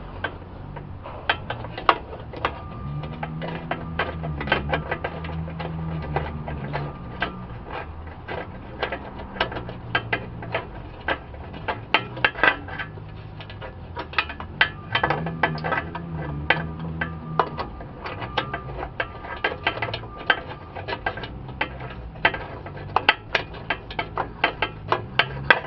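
A ratchet wrench loosens a bolt on the catalytic converter of a 1999 Toyota Solara, giving close, steady runs of dry clicking in repeated bursts with short pauses between strokes.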